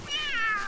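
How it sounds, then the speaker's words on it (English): A cat in The Sims 3 Pets video game lets out a single drawn-out, wavering meow-like yowl while fighting a snake, clear and close with nothing else behind it. "My cat is fighting a snake."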